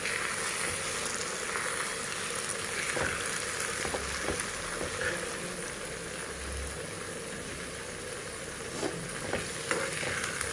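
Mushroom curry sizzles steadily in a pan, a continuous frying hiss with occasional clinks and scrapes of stirring throughout, no voices.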